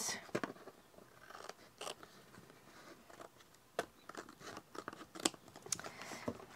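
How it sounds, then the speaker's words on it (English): Scissors snipping away excess paper from the pages of an altered book junk journal, a string of quiet, crisp cuts and crinkles at close range with irregular pauses, no talking. "And I will take my scissors so we can cut off the excess."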